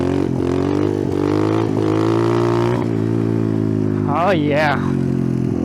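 An Icebear Champion off-road motorcycle with a 17-tooth sprocket and 22mm carb revs loudly and steadily close by, then surges higher as it lifts into a wheelie, while a rider's voice briefly exclaims over the engine.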